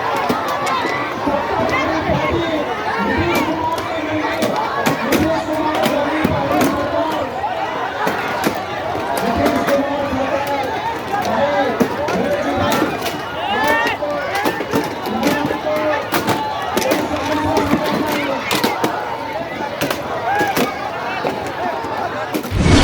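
An unruly crowd erupts in uproar at a political rally in Manihari, Katihar, where chairs are broken and stones are thrown, with dense shouting, commotion and sharp cracks and knocks going on without a break.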